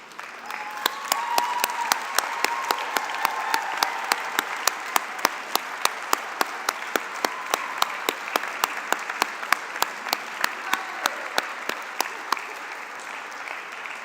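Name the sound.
audience applauding at a commencement ceremony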